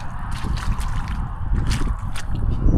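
Water trickles and drips along a small channel scraped through wet ground with a shoe, a close, steady wet gurgling that runs without pause.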